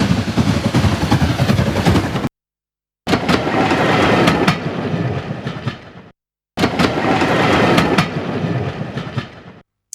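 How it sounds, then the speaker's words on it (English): Train rolling past with steady rhythmic clickety-clack of railcars over track joints, loud and continuous, broken by two brief silent gaps where a sound-effect loop restarts. "when I searched for rain, we also got train"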